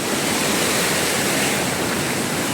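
A river in full monsoon flow rushes past nearby, a loud, unbroken broadband roar of churning water with no voices over it.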